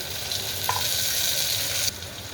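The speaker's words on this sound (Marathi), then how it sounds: "टोमॅटो आपला पूर्ण फ्राय करून घेऊया होत आहे बघा" Close, steady sizzling of tomatoes frying in a pan for khichdi, a bright hiss with a brief stir partway through.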